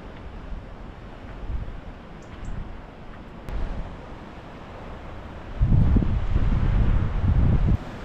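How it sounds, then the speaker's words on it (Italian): Gusty wind buffets the microphone with low rumbling surges, growing stronger and more sustained toward the end. "fuori c'è un vento bestiale"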